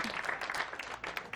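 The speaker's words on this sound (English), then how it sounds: "Give it up. Come on, applaud that shit." An audience at a stand-up comedy show breaks into applause, a dense wash of clapping from a small crowd that stays fairly distant and quiet for a brief moment.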